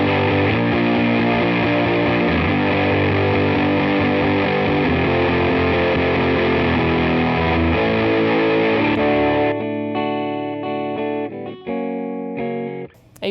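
An electric guitar played through a Rat distortion pedal holds a thick, buzzing sustained chord for several seconds, then breaks into choppier, rhythmic distorted strums, loud and up front with no voice.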